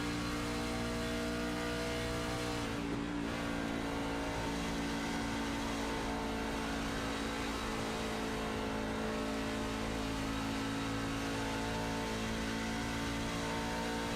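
A race truck's engine in a racing video game, heard from the onboard view, drones loud and continuous with a steady high whine and a brief dip in revs early on, no voices.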